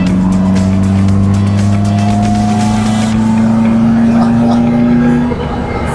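A Caterham Roadsport is driven on Circuit Zandvoort, its engine droning loud and steady from inside the car while the pitch rises through a gear, dips at a shift, then carries on.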